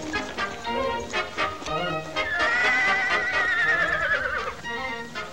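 A horse gives a long, loud, quavering neigh that rises and falls over several seconds amid background bustle and faint voices.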